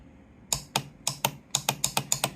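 A rapid series of sharp mechanical clicks from a motorcycle starter solenoid that clicks without starting, about ten in irregular bursts, crisp and close against a quiet background.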